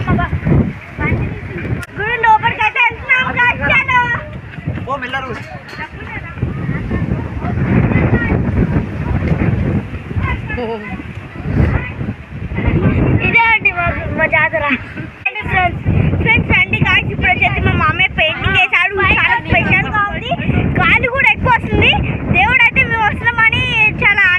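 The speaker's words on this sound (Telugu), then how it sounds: "గాలి అన్ని పడిపోయాయి గాలికి" Strong wind buffets the microphone in a loud, continuous rumble at a Narasimha temple, with people speaking over it throughout.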